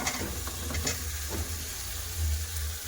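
Chopped kohlrabi hits a sizzling spice masala in oil, producing a loud, dense frying hiss with stirring scrapes throughout, close up and without talk.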